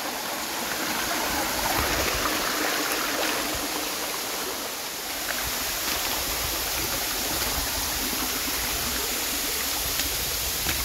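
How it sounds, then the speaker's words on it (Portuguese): Steady, full-band roar of the Cachoeira do Jenipapeiro waterfall on the Serra de Maranguape, a dense continuous rush of falling water heard close and loud throughout with no voices. "Chegando aqui na cachoeira."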